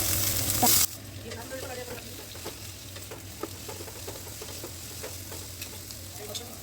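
Boiled raw jackfruit fries in hot mustard oil with five-spice, bay leaf and dried chilli, a soft continuous sizzle broken by repeated scraping stirs of a spatula, close by after a brief loud burst at the start.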